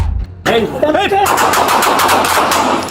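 Gunfire during a police officer-involved shooting after a taser was deployed, a rapid burst of loud close shots following shouting voices.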